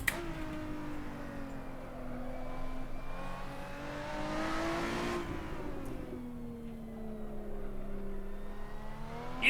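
A race car engine in Assetto Corsa, revving up and down as it climbs through the gears, then dropping for corners and pulling again. It plays steady and mid-loud throughout, with no voices over it.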